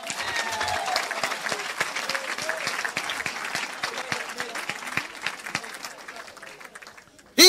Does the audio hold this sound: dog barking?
no